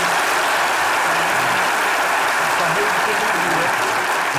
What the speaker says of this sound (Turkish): Güzel bir alkış geldi.